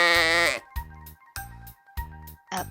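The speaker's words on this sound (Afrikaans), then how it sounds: "Die skaapfamilie." A sheep gives one long bleat followed by a few short, evenly spaced pulsing notes, clear and close, in a children's farm-animal lesson.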